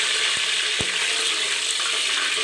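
Curry leaves dropped into hot oil in a pan for fish curry, a loud steady hiss and crackle of frying, close up, with a couple of small thumps early on and no talk.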